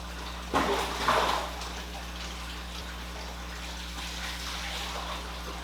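Water pouring into an aquarium tank during a refill, a continuous rushing splash over a steady low pump hum, with a couple of louder surges near the start.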